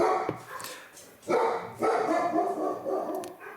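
Several dogs bark loudly and close by in a home, with repeated bursts of barking and some yips and whimpers, no speech over them.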